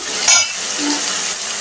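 Onions fry and crackle in a pan with a brief scrape of a stirring utensil early on, the steady hiss close and even.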